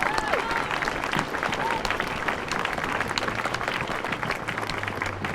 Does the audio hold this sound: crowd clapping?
yes